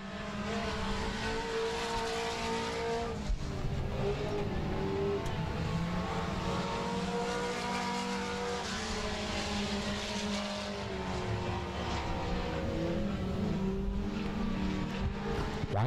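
Race cars at Monarch Motor Speedway roar continuously around the oval track, a dense, loud engine drone rising and falling as the field passes through the turns and down the back straightaway.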